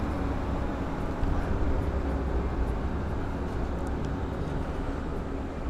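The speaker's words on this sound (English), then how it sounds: "here's the train being moved forward for the double stop." A Long Island Rail Road train, the Cannonball, creeps forward at Westhampton station for a double stop, producing a steady, broad rumble that holds at an even level without any talking.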